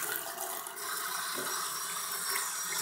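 Running water rinsing mixed patina off a metal piece, a steady broadband wash like a tap or spray that continues unbroken throughout, fairly loud and alone.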